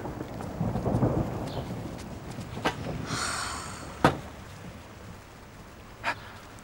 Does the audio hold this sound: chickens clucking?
no